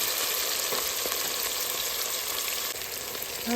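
Large onions frying in a pan as the base for a coconut milk mutton biryani, a loud, dense, continuous sizzle heard up close without any voices.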